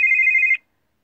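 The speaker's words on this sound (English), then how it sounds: "my phone rang." A mobile phone rings once with a steady electronic tone that is loud and close and cuts off abruptly after about half a second, leaving silence.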